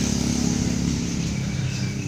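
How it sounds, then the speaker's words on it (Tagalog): A motorcycle engine runs steadily close by, a continuous rumbling drone with no voices over it. "ilalabasan natin yung pinakapugi nating motor"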